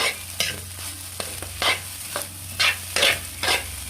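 Rice with egg, garlic and salt stir-fried in a pan over a firewood fire: repeated scraping stir strokes about every half second over a steady close sizzle, with no talk.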